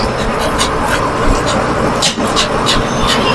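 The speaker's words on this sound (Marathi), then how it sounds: "निघाली गाडी" An MSRTC Lalpari state bus pulls out of the Barshi bus stand in Solapur district, its engine and traffic noise a steady, busy rumble under nearby voices, with a brief dip midway.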